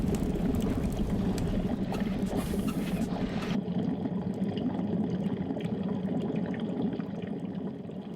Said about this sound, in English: Literally, just pour it onto the dry ice. The dry ice is going to react violently with the hot water, make a very bubbling, cauldron-y type noise